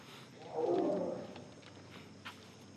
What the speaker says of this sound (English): And if you hear that, that is our Asian lion.